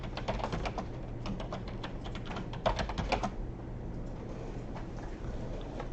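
Computer keyboard typing in rapid clusters of close keystrokes, strongest in the first half and then thinning out over a low background hum, without speech.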